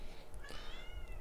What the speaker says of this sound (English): you guys hear that cat?